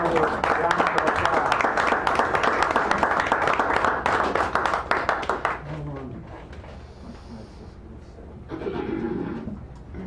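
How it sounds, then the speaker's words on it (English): Café audience at a San Francisco poetry reading claps loudly and steadily for several seconds, then the applause fades out and a voice begins speaking. "Give him a nice round of applause."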